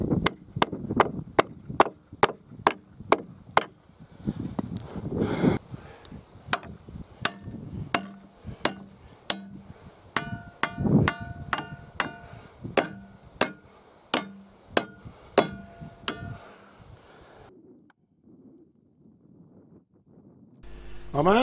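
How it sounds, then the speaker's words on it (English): A hammer drives a chisel to cut a slot for a log dog in a log at a Turbo Warrior swing sawmill. About two dozen sharp, loud strikes land in an uneven rhythm, each with a woody knock, then fade to quiet near the end. "what I'm doing here is cutting a slot for the log dog to go in"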